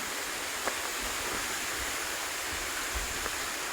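Steady broadband roar of the Virje waterfall, a constant rushing wash of falling water heard from nearby, loud and unbroken with no voices.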